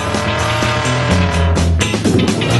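A small sky-blue Trabant car rolls up and comes to a stop, engine rumble and tire noise building loudly up close with a brief scraping squeal near the end, no voices.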